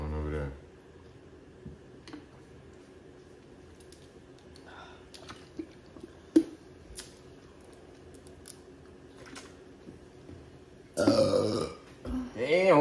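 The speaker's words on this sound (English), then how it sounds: "go ahead and burp one time" A loud, drawn-out burp after drinking Sprite closes the stretch, following a long, mostly quiet pause broken by small clicks and rustles, with a voice heard at the start.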